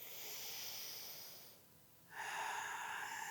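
Deep, full breaths taken during a mindful breathing exercise: a long airy inhale or exhale, a brief pause, then another strong breath, close and steady.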